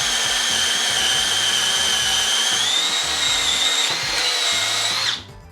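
A DeWalt DCD800 mid-tier cordless drill bores a hole at low speed. It gives a steady, loud, close motor whine that climbs slightly in pitch midway and then stops abruptly near the end.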